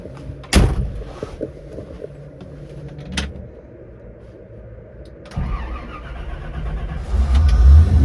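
Fuel-injected Chevrolet Bel Air with a Lingenfelter multi-port injection system and five-speed manual cranks over on a hot start, with a sharp click and a door-like thump first, then catches and idles before revving up loud and close.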